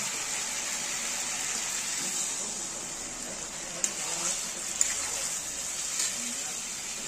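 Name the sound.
water being poured into a pan while cooking chilli chicken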